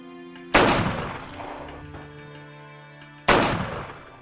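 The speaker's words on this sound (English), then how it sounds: "fire 2 shots from cover, just keep their heads down" Two loud, close gunshots ring out about three seconds apart in a western film shootout, each a sharp crack followed by a long echoing decay, with no talking.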